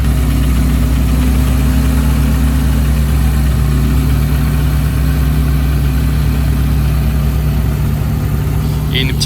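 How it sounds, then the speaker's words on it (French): A Porsche Carrera GT purrs on a Monaco street at night, a loud, steady low engine drone that holds throughout, with a faint voice beneath it. "Qu'est-ce que ça ronronne la Carrera GT aussi"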